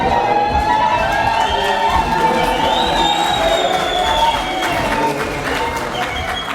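An audience bursts into loud, sustained applause and cheering for the Harare Central Prison Choir in Zimbabwe, with crowd shouts and high whistles over a thick, even roar of clapping.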